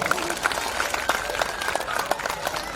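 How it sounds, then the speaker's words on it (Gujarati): An audience applauding, a dense patter of many hands clapping at moderate loudness, with voices mixed in. "એકવાર જોરદાર તાળીઓ વગાડો તમારી માટે"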